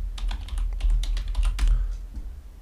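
Someone types a URL on a computer keyboard, producing a quick run of clicky keystrokes in uneven bursts, close and clear, with a short pause before the final taps.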